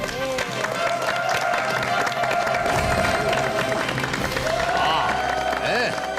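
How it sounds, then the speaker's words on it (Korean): A Korean TV studio audience claps and cheers to welcome a guest, the applause mixed with a bright musical jingle and a voice, steady and fairly loud throughout. "여러분 박수로 환영해 주십시오."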